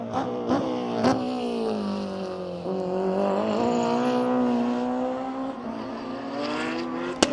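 A Porsche rally car passes on the circuit during the 2023 Sainte-Baume Rallycircuit shakedown. Its engine note climbs and falls as it revs through the gears, fairly close and alone, with sharp clicks near the start and end.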